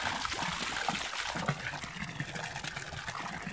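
Icy water pours steadily from a village fountain in Çamlıbel, Oltu, making a close, continuous splashing trickle with no pauses.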